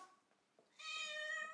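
A cat meows loudly and sustainedly after being sprayed with catnip spray indoors, preceded by faint softer vocal sounds; no one talks over it.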